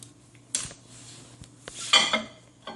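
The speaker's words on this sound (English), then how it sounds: "you just break the yolks, mix it up" Utensil scraping and clinking against a dish as eggs with broken yolks are stirred together for breakfast tacos, a few sharp taps and then a louder burst of scraping near the end, close and fairly quiet.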